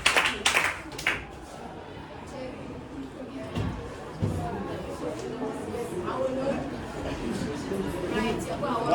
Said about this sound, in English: Okay, clap for him.